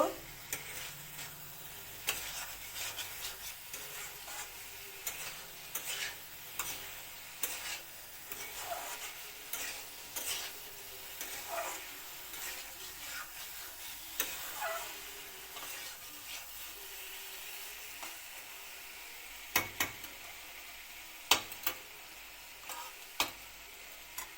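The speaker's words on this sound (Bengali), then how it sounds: "এবার মিষ্টি কুমড়োর টুকরাগুলি ভাজা আর পেঁয়াজ এর সঙ্গে" Pumpkin pieces fry with onion and spices for a rohu fish head ghonto, a quiet continuous sizzle broken by frequent spatula scrapes and taps against the pan, close and unhurried, with no talking.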